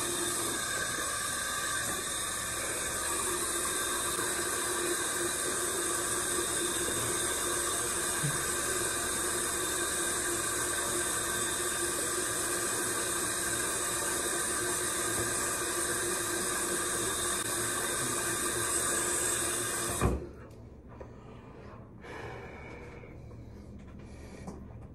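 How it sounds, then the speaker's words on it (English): Tap water runs steadily into a bathroom sink during face washing, a continuous broadband hiss lasting about twenty seconds before cutting off abruptly, leaving only faint room noise. "Wash off my face."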